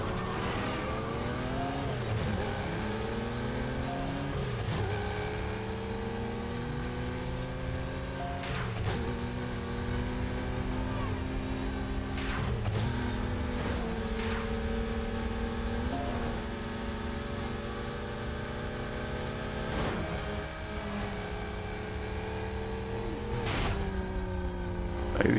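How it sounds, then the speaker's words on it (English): A car engine in the video game Need for Speed: Nitro accelerates through repeated gear shifts, its pitch climbing and dropping in a loud steady cycle, with occasional sharp tire and impact noises. "The acceleration of this car is so shitty"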